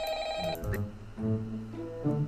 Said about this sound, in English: Oh, God, answer the phone.